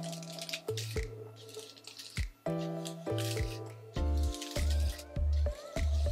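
A detangling brush drags through hair in repeated strokes, each pass giving off close, squeaky, creaking tones separated by brief pauses.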